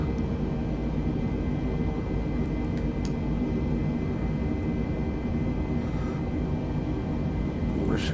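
A simulated fixed-wing aircraft in a flight simulator cockpit banks toward runway 18, its engines producing a steady, loud, continuous roar with a few faint higher clicks near the end.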